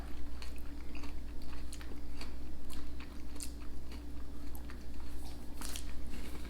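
Close, crisp bites and crunchy chewing of a light chocolate-coated puffed rice snack from Germany, repeated in an uneven rhythm with no talking.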